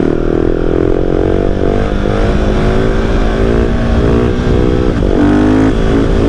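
A 2019 KTM 690 SMC R supermoto engine revs hard during a wheelie, droning loud and steady close to the microphone, with pitch climbing and dipping through the run and a brief rise near the end as it shifts up.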